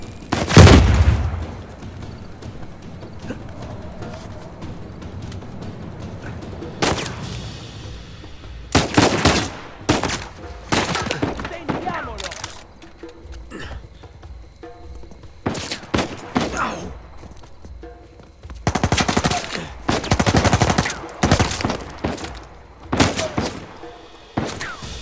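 Repeated bursts of gunfire in the Uncharted 4 video game, several loud volleys of rapid shots separated by quieter stretches, with a short burst at the start and dense firing near the middle and end.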